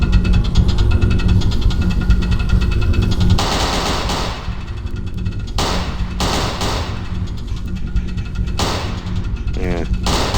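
Gunfire in a VR roller coaster zombie shooter game rattles in rapid automatic bursts over a rumbling ride noise, loud and close, broken by short gaps and single heavy shots.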